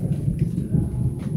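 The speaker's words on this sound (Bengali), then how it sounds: "ও বাবা আবার মেঘ ডাকছে," Low thunder rumbles under a cloudy, rainy sky, a steady deep roll at moderate loudness with no voices.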